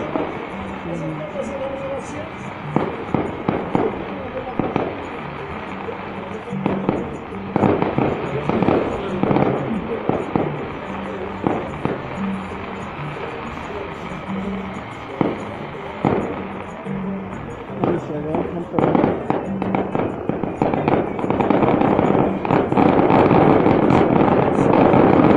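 Fireworks and firecrackers burst at a castle-burning festival in San Miguel Ameyalco, a long run of sharp cracks and booms, some in quick clusters, over crowd noise with people talking nearby.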